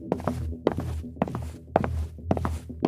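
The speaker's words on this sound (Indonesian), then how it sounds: "suara langkah kaki terdengar dari lorong" Slow, heavy footsteps in the hallway of an old, silent house at night, sounding as a horror story effect: six or so dull thuds with scuffs, evenly spaced and fairly close, with nothing else heard.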